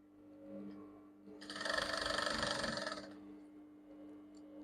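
An electric sewing machine stitches a Basque blouse with a yoke in one continuous whirring run of about a second and a half, close and moderately loud, with quiet room tone before and after.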